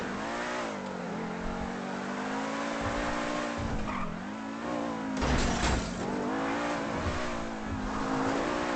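BMW M3 in a GTA roleplay game, engine roaring continuously at high revs with rising and falling pitch as it accelerates and shifts, loud and close throughout, with a brief tire squeal midway.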